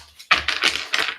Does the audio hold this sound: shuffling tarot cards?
yes